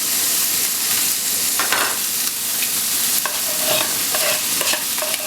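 Fresh spinach hitting a hot pan seasoned with cumin and salt, a loud, dense, continuous sizzle and crackle close up, with a few stirring scrapes.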